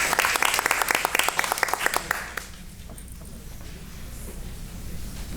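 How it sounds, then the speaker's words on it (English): An audience at a school board of education meeting applauds staff with brisk, moderately close clapping for about two seconds, then it stops abruptly and leaves quiet room tone. "let's give them another round of applause"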